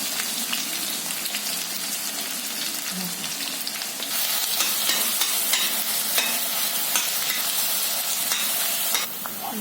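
Onion fries in hot oil in a pan: a loud, steady sizzle goes on throughout, broken by close scraping and stirring sounds, with no talking.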